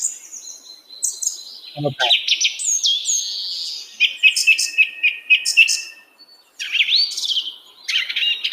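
Bright bird chirps and whistled calls repeat in quick trills and sweeping tweets against a quiet background, with a brief low spoken word near the start.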